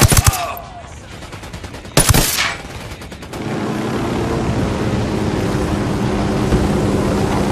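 Automatic weapon fire in Ghost Recon Wildlands: two sharp close bursts of rapid shots at the start and around the two-second mark, then a steady engine-like rumble and hiss fills the rest.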